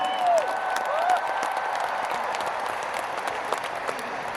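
A big crowd applauds for Indonesia at a Christmas service at GBK Senayan stadium, a broad continuous wash of clapping from many hands that carries on and slowly settles.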